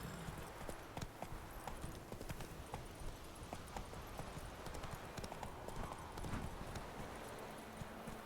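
The horse Roach gallops in The Witcher 3 video game, with continuous rapid hoofbeats drumming at a steady pace and moderately loud for the whole stretch.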